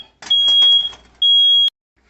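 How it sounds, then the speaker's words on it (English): A kitchen smoke detector set off by cooking grease sounds two sharp, shrill electronic beeps, the first partly overlapping faint background noise, the second clean and alone before silence. "Y'all don't mind my smoke detector."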